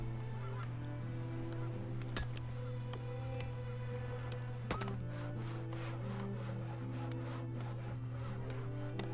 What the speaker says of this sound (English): Here come the geese.